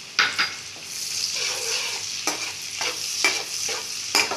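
Green chillies and ground ginger fry in a pan for paneer bhurji, a close sizzle broken by several sharp scrapes and clinks of a spoon stirring against the metal.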